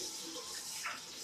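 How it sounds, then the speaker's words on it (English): Rice being washed in water before boiling for Nigerian fried rice, a steady soft swishing and trickling of water, faint and continuous without any talking. "sure you wash your rice very well"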